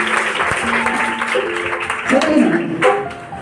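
A church congregation gives a burst of clapping, moderately loud, with voices and a tonal background sound mixed in throughout.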